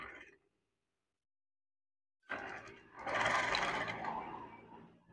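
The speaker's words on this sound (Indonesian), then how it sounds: "Jahit saja." Sewing machine stitching folded curtain fabric, a short burst of whirring after a pause, then a louder sustained run of stitching, close and alone.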